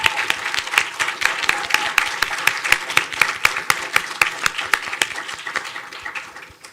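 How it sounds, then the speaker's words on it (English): Audience applause for graduate student instructors at a nanoscience final presentations event, steady dense clapping from many hands, fairly close, continuing evenly throughout with no voices over it. "I want just, again, our grad student instructors to please stand up and get another round of applause for being there all the time."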